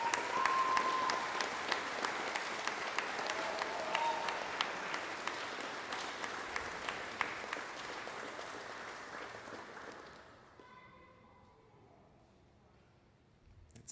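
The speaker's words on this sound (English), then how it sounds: "Can we give Ben Fisher another round of applause?" A school music gala audience gives a sustained round of applause, dense clapping from a large crowd that holds steady for about ten seconds, then thins out and fades to a few scattered claps.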